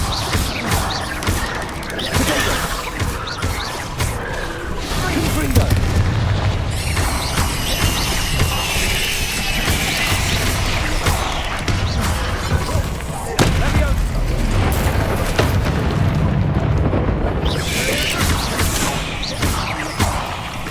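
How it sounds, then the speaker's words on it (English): In Hogwarts Legacy, the Incendio fire spell goes off in loud booming, crashing bursts amid a continuous din of combat noise, with voices over the action. "Incendio!"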